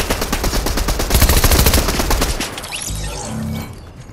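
Rapid automatic gunfire in Fortnite rattles loudly in a dense, steady burst of shots, then cuts off and gives way to a few quieter, more distant pops.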